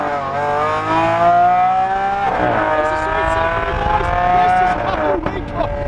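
A Pandem widebody C8 Corvette revving hard, its engine pitch climbing and falling through loud, close sweeps with a sharp rise near the end, and a voice speaking faintly over part of it.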